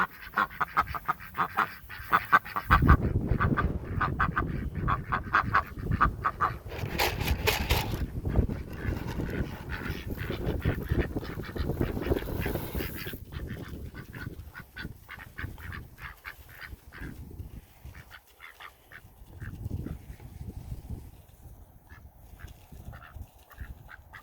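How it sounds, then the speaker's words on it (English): Ducks calling for food quack loudly and continuously, a noisy flock close by with overlapping honking calls throughout. "the ducks are letting me know, hey, they need food"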